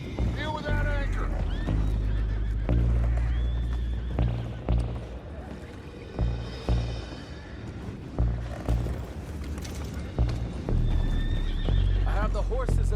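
Horses neigh and whinny repeatedly in a Rockstar video game, with clip-clopping hooves, wind and spoken dialogue layered over the animal calls throughout.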